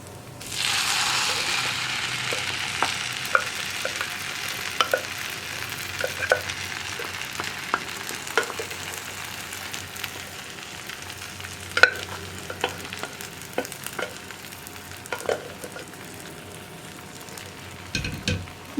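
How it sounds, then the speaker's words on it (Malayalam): Green gram and coconut stir-fry with raw banana peel gets stirred in a hot pan, a soft steady sizzle broken by repeated scraping and tapping of the spoon, with no voices. "പയറൊക്കെ ചേർത്ത് ഇളക്കി മിക്സ് ചെയ്തെടുക്കാം."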